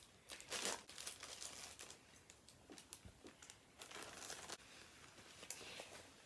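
Crinkly plastic rustling and crumpling in bursts, close by and fairly quiet, with a few sharper crackles as a plastic package bag is handled and pulled open by hand.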